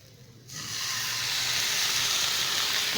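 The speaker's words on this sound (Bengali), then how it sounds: "এখন এর মধ্যে দিয়ে দেব জল" Water poured into a hot pan of vermicelli and vegetables for spicy vermicelli sets off a sudden loud sizzle that swells into a steady, bright, hissing steam and keeps going, close and continuous.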